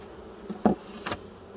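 Honeybees buzz around an open hive during an inspection, with a low, steady drone in the background and two brief, louder buzzes as individual bees pass close by.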